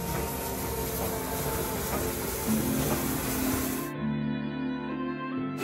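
American-built steam locomotive, made in Ohio around the Second World War, running on the Keighley and Worth Valley Railway; a steady, loud rumble and hiss of the train continues for several seconds, then a sustained high-pitched hiss cuts away, leaving lower droning tones.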